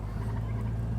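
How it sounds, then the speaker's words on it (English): Chickens and turkeys in a farmyard give a short stretch of gobbling and clucking over a steady low hum, at moderate distance and with no speech. "Crazy chickens and turkeys."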